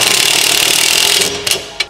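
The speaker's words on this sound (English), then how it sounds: "This is to help speed up the process with the power tools" A power tool, likely an impact wrench, fastens coilover bolts on a 2022 Subaru WRX. It gives a loud, continuous buzzing rattle that stops abruptly, followed by two short, sharp clicks.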